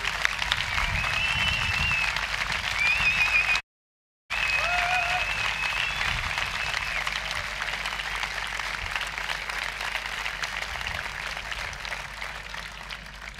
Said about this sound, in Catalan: I sense parar d'aplaudir